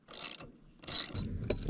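A socket wrench ratchets in two short bursts of clicking while a tire is being removed, faint and close, with some low rumbling background between.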